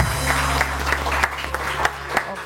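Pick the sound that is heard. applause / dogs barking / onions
applause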